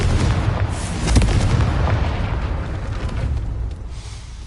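A Confringo blasting spell goes off in Hogwarts Legacy: one loud booming explosion with a rumbling low-end tail, bursting early and then fading slowly.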